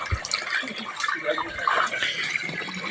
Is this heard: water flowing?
yes